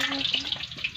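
Eggs fry in a pan with a brief, soft, steady sizzle and light crackle, close and faint.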